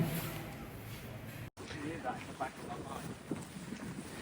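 Gusty wind buffets the microphone outdoors on a cool, damp day in Malmö, a steady rushing roar with a brief dropout, while someone talks over it.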